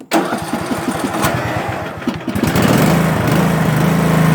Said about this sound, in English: we want to make sure we run the engine so the stabilizer gets through the carburetor